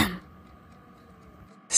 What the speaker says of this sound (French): J'ai entendu tousser.